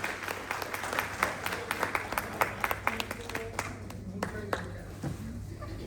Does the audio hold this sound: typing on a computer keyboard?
no